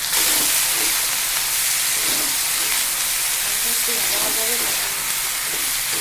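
Onions frying in a pan for a Bengali prawn and kochur loti curry give a steady, loud broadband sizzle and hiss throughout, with faint background voice.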